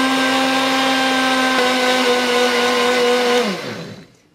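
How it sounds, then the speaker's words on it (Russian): A blender whips habanero hot sauce with apple cider vinegar: a loud, steady motor whine runs for about three and a half seconds, then pitch drops as it spins down and stops. "Добавляем яблочный уксус. И опять взбиваем."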